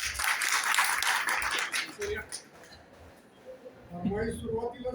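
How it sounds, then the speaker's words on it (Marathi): Audience clapping at a state-level college elocution competition, a burst of applause in the first half that fades away, after which a voice speaks over the quiet hall. "टाळ्या वाजवा जोरात"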